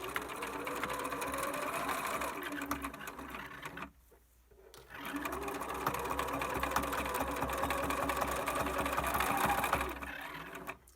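Domestic sewing machine stitching a fabric face mask over a strap, running loud and close with a fast steady whir, pausing briefly for about a second before starting up again and continuing to the end.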